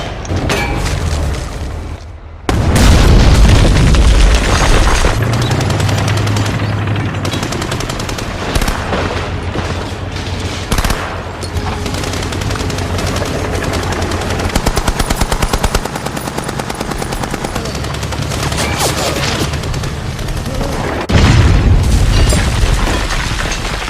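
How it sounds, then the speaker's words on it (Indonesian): Anti-tank gun fire and explosions in a battle against Soviet tanks: heavy booms and blasts punctuate continuous rapid gunfire and rumbling, loud and close throughout, with a big detonation near the start and another near the end. "Senapan anti-tank langsung diluncurkan."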